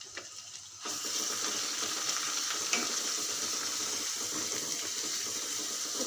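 Whole spices (black cardamom, cinnamon stick, black peppercorns and a bay leaf) roast in hot oil for mataar paneer, giving a loud, steady sizzling hiss that jumps up suddenly near the start and crackles continuously.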